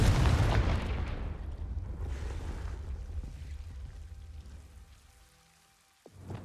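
Confringo blasting spell explosion in Hogwarts Legacy: a loud burst that rumbles and decays over several seconds, fading to near silence before a short sharp sound at the end.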